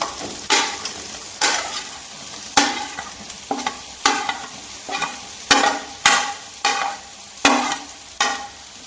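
Mutton pieces frying with ginger-garlic paste, onions and green chillies, a loud sizzle broken by regular, rhythmic scraping strokes as the meat is stirred in the pan, with no voices.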